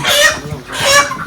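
Broiler chickens about fifty days old cluck loudly and close, two drawn-out calls in quick succession with no talk.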